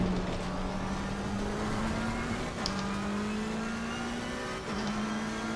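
An Aston Martin race car in Assetto Corsa Competizione drones at high revs, its engine note climbing steadily through gears with brief dips at each shift, loud and continuous from the cockpit with no talking.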